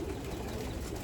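Young racing pigeons coo and cry softly inside a loft, low murmuring calls close by against a faint steady background.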